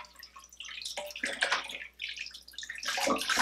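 Raw chicken pieces rinsed under running water with a bit of lemon, a steady close splashing and trickling with brief pauses, loudest near the end.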